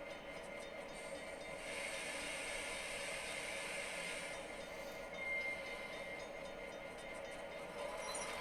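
A model grain train rolls along a layout with a steady, faint broadband hiss and rumble of running rails. No voices are heard.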